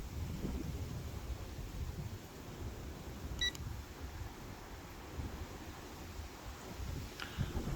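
Cold, gusty wind buffets outdoors as a steady low rumble and roar across the microphone, swelling now and then, with a couple of faint high beeps and no talk.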